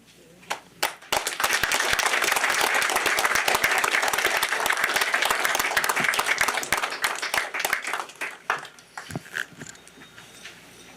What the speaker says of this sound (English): after we applaud